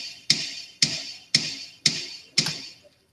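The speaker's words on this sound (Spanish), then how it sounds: "Entonces el kick solo en la canción suena así" A kick drum sample from an electronic beat strikes five times at an even, moderate tempo, each hit sharp and punchy with a quick decay, heard alone with no other instruments.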